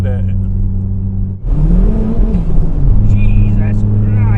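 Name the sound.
432 BHP Saab-powered Astra van accelerating hard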